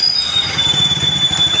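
A heavy Akansha Umbrella model sewing machine with a thick rod runs steadily, giving a fast, even rhythmic clatter with a thin, high, constant whine close by and no voices.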